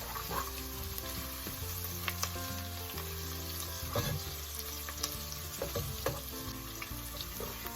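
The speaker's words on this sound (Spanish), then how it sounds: "le agregamos el ají verde o el pimiento verde y sofreímos juntos alrededor de otro minuto más" Green pepper (ají verde) sautéing in a pan, a steady close sizzle and crackle with occasional stirring scrapes and pops throughout.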